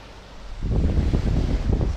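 Wind gusts at a Suffolk beach on a sea fishing spot, a rushing roar of microphone buffeting that swells in after a quieter moment and stays loud and rumbling.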